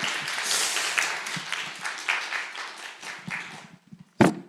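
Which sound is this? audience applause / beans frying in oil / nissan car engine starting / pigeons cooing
audience applause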